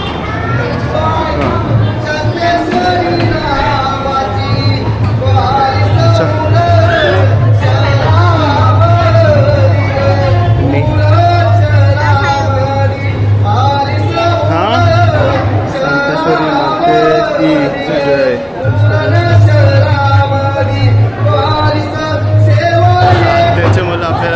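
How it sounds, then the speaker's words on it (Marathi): Huge festival crowd at the Aai Shanteshwari palkhi procession, a dense continuous hubbub of many overlapping voices with a steady low rumble underneath, loud and close throughout. "गर्दी बघशील अफाट आहे"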